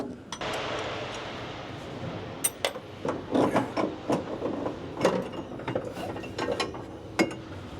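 A ratchet undoes the tight top nut of a coilover on a Datsun Sunny, giving bursts of quick clicking in an uneven rhythm, close and fairly quiet.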